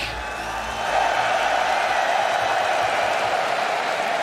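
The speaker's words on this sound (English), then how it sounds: "Sorry, the crowd's really loud." A packed esports arena crowd in Copenhagen cheers at the 2018 EU LCS Spring grand final between Fnatic and G2 eSports, a dense steady roar that swells louder after the first second and holds.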